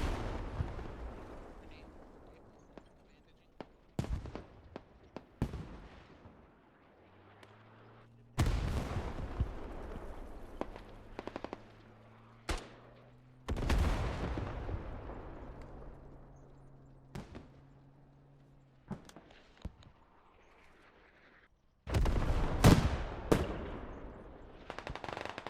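Mortar fire sounds in the online war game Clash of Nations. Sharp, heavy blasts land one at a time, each with a long decaying tail, while an engine-like drone hums in between and voices speak faintly.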